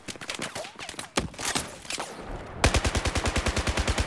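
Rapid automatic gunfire from a weapon in the Battlefield 4 video game, scattered shots and noisy game action first, then a steady, loud burst of evenly spaced rounds at the end.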